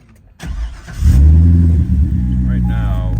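A 2013 Chevrolet Corvette C6 engine cranks and fires up, then roars loudly into a rev before settling into a lumpy idle, heard close by.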